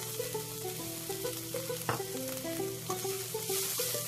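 Broccoli frying in hot oil with cumin seeds in a pan, a steady close sizzle with a faint stirring clatter partway through, no talking.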